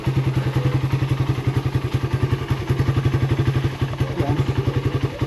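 A motorcycle engine idling with a steady, rapid putter of exhaust pulses, close and loud, running evenly throughout.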